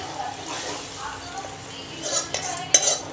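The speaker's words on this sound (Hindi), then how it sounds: "अब इसमें डाल देती हूँ भाजी" Amari bhaji leafy greens going into a hot pan for a Chhattisgarh-style khatta bhaji, with scraping, stirring and utensil clatter over a light sizzle, a few sharper knocks near the end and a voice speaking alongside.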